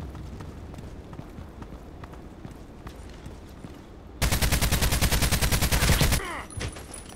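Gunfire in a sniper shooting game, a loud rapid burst of repeated shots lasting about two seconds, followed by quieter battlefield sounds and a talking voice.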